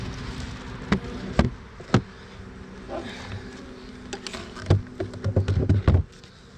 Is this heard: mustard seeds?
no